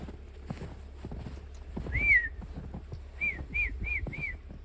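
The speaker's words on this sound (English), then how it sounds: "give the horses the grain" Horses on an Alaskan homestead shuffle and clop their hooves nearby while being fed grain; a person whistles several short rising calls to them over the steady hoof movement.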